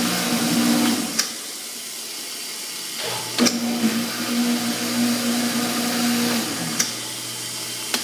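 A pump empties milk from a bulk tank in a stanchion dairy barn with a steady mechanical hum and whine. It drones on and off, broken by a few sharp clicks and knocks, and nobody talks.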